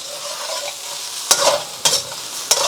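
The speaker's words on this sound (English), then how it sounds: "And king prawns cook really quick." King prawns fry in a hot pan with a steady close sizzle, broken by three sharp stirring scrapes and bursts that come at roughly even intervals, with no voices.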